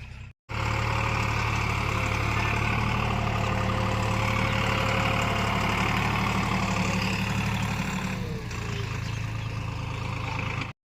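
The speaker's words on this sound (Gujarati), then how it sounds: "અરે અહીંયા તો ટ્રેક્ટર આવે ને" A tractor's diesel engine idles steadily and loudly nearby on a farm, a constant low chugging drone throughout.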